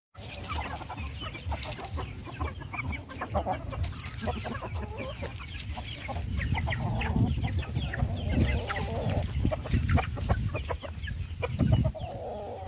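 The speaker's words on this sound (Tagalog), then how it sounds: "Ito guys, ang saya-saya ng mga chicken dito." Chickens on a farm in Libertad, Daanbantayan, Cebu cluck repeatedly in irregular bursts at close range, with a low rustling background and an occasional louder call near the end.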